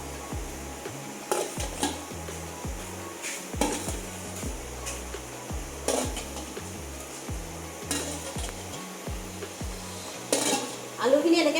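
Fried potatoes being tipped into a pot of boiling chicken pulao and stirred, giving repeated scraping and clinking of a spoon against the metal pot over a soft bubbling background, with a brief spoken remark.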